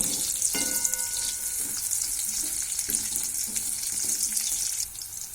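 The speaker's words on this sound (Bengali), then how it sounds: "এবার আমরা কিশমিশটা দিয়ে দিচ্ছি, কাজু এবং কিশমিশটা দিয়ে আর একটু নাড়িয়ে নেবেন।" Cashews and raisins frying in a pan, a steady loud sizzle with scraping stir strokes at intervals, alone with no voices.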